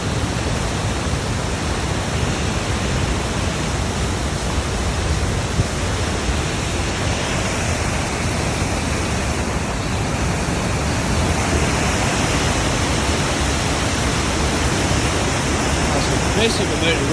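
Waterfall on a burn at the Loup of Fintry, a massive volume of water crashing off an edge into a continuous broadband roar that stays loud and unbroken throughout.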